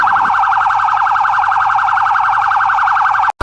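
An emergency vehicle siren in a cartoon about city vehicles, a loud continuous warbling wail close up, cut off abruptly at the end.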